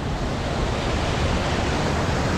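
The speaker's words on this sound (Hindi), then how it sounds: "झरना देखो कितना बढ़िया है यहाँ पे" Waterfall beside a mountain road on the route over the high Ladakh passes, a steady dense broadband rush of falling water filling the whole clip at even loudness, with no voices.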